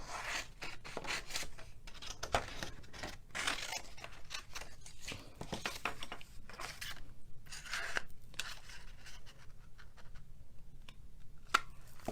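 Scissors snip and rustle through cardstock paper while a Stampin' Up Easter treat box is made, giving close, steady crisp cutting and scraping sounds with brief pauses.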